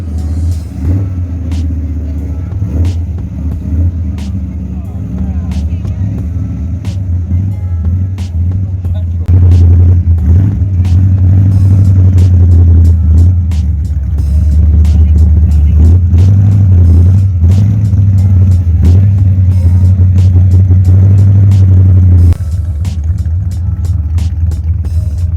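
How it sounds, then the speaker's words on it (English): Show cars at the Salon Prive car show in London rumble and idle as they start up for a parade, deep loud engine drone with occasional revs building and easing over crowd noise and some talk. "All the cars are beginning to start up now, which is time for the parade"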